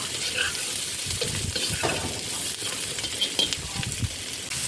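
Chopped carrot lightly frying in a pan for Ukrainian rassolnik, with a steady soft sizzle and scattered clinks and scrapes of stirring throughout, up close and without any talk.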